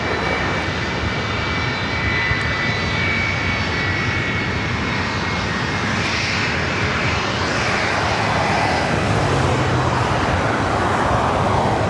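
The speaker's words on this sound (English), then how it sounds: "Delta Airlines Flight 1647 heading to Salt Lake City at 737-900 ER" A Delta Air Lines Boeing 737-900ER bound for Salt Lake City roars down runway 24 right at LAX on takeoff, its jet engines a loud, steady broadband rumble that swells and shifts over twelve seconds.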